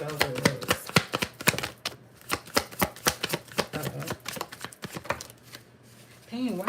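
Tarot cards are shuffled by hand in rapid, crisp riffling bursts, a dense rhythmic flutter of card edges with brief pauses, close and fairly loud, with a voice speaking near the end.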